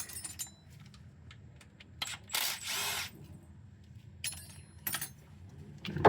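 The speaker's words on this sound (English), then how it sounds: "That bolt's got to come out of there." Metallic clinks and a short whirring tool burst as a bolt is worked out of the power steering control valve on a C3 Corvette, heard close and intermittent with brief clatters and no speech.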